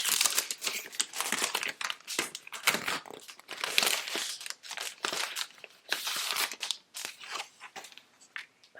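Designer paper handled and crinkled up close, loud bursts of crackling and rustling in irregular waves with short pauses between.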